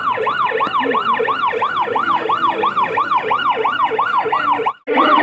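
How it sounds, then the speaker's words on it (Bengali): An ambulance siren wails loud and close in a steady, rapid rising-and-falling cycle, cutting out briefly near the end before resuming. "এরপর এটা হচ্ছে অ্যাম্বুলেন্সের গাড়ি।"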